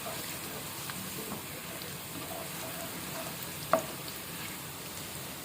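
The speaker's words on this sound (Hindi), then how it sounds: "अब इसमें डाल दें जी साबुत गरम मसाला जो मैंने सारा आपको बताया था, होल स्पाइसेस। थोड़ा सा सौते करें।" Whole garam masala spices sautéing in a pan for a whole moong dal dish, a soft steady frying sizzle with one small clink of a utensil near the end.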